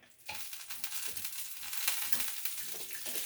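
Beef tallow sizzles and crackles steadily on a hot waffle iron, a close, continuous frying hiss with small pops throughout.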